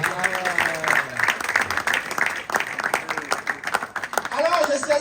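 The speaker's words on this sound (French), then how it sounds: "Est-ce qu'on peut applaudir pour la paix dans ce monde?" An audience at a live event in Paris applauds steadily, with dense clapping throughout while someone speaks loudly over it.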